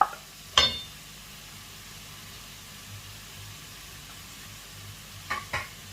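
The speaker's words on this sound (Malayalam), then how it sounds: "ഇതിലേക്ക് നമുക്ക് തക്കാളി അരിഞ്ഞത് ഇട്ട് കൊടുക്കുകയാണ്" Chopped tomatoes fry with wilted onions in a pan for a Kerala-style tomato pachadi, giving a continuous soft sizzle, with a couple of sharp utensil clinks against the pan at the start and near the end.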